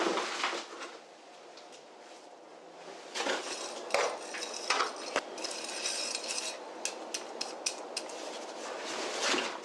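A hand tool stirs new soil in a planter on a home veranda, making scraping and gritty rustling with sharp clinks and taps at irregular intervals, close and alone.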